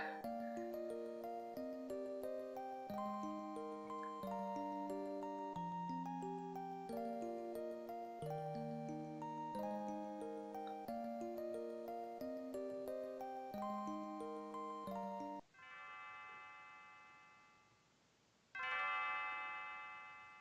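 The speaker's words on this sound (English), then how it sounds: "Henceforth, Nadia's bell will ring proudly instead." Bell in Chrono Trigger chiming a repeating melody of clear tonal strikes at a steady rhythm, then a brief pause and a final sustained ring, fairly quiet and without talk.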